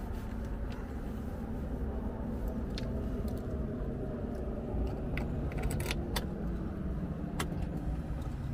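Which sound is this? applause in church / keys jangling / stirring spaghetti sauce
keys jangling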